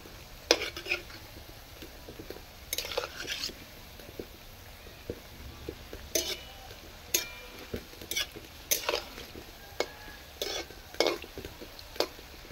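Palm fruit fritters (taler bora) frying in oil over a low flame, with a faint steady sizzle and repeated nearby clinks and scrapes of a utensil stirring in the pan.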